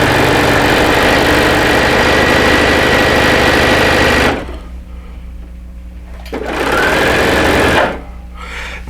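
Sewing machine running loud and close in a steady continuous whir, stopping abruptly for a couple of seconds, then starting again before cutting off once more.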